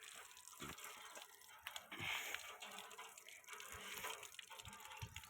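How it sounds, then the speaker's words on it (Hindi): Water from a hand pump splashes and gushes as it is drawn for goats outdoors, a faint, continuous rushing with intermittent surges and small clanks. "मैं आ चुका हूँ कैंचू पर, क्यों बकरियों के लिए पानी भरने के लिए।"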